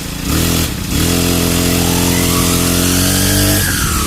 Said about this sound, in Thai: สตาร์ตติดง่ายนะ เร่งเลย